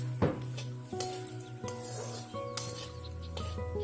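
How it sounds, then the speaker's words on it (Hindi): Makhana (fox nuts) roasting dry in a pan over a low flame for sweet laddoos, with a steady soft rustle broken by several scraping stirs and light clinks of the spoon against the pan. "अब हम मखाने भूनेंगे।"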